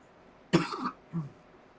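Two short coughs close to the microphone, a sharp loud one followed by a softer one, in an otherwise quiet room.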